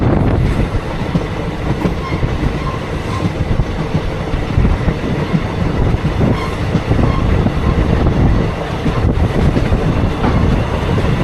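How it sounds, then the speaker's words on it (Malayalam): Passenger train pulling into Udumalpet station, wheels rumbling and clattering over rail joints with a steady rolling roar and faint squeals, heard up close from on board without any talk. "ഉടുമ്പൽപേട്ടയിലേക്കാണ് ഇപ്പോൾ ട്രെയിൻ എത്തിയിരിക്കുന്നത്."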